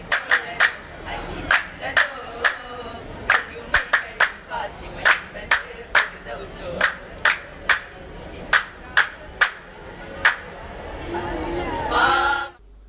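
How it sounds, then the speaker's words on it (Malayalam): An audience at a school team competition claps in a steady, rhythmic beat of sharp claps under crowd chatter and voices, ending in a loud burst of cheering and clapping. "ഓരോ ടീമിന്റെയും ഊഴമെടുത്തപ്പോൾ തന്നെ കൂട്ടുകാർ കൈയടിച്ചും ആരവമുയർത്തിയും"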